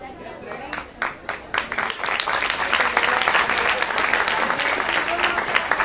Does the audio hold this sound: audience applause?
yes